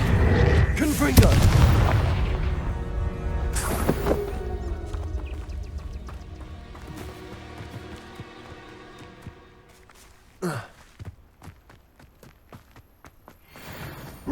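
A Confringo blasting spell in Hogwarts Legacy goes off in a loud, booming burst, followed by a second sharp crack and a long fading tail amid quieter game ambience; a voice speaks briefly.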